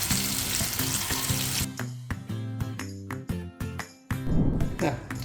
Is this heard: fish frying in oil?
yes